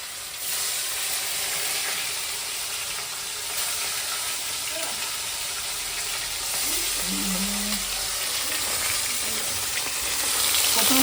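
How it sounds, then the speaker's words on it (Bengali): Pieces of bata fish fry in hot oil over a fire, giving a dense, even hiss that stays close and steady and grows slightly louder near the end. "এখন বাটা মাছগুলো ভেজে নিই।"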